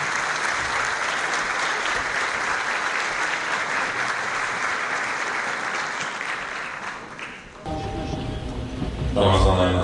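Audience applause welcoming the mayor of Adana to the podium at a holiday greeting event, a steady dense wash of many hands that thins briefly near the end before a voice starts speaking over it.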